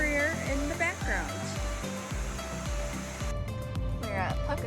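Waterfall in a canyon near the Lake Superior shoreline, a steady broadband rush of falling water running throughout, with clatter and brief voices layered over it.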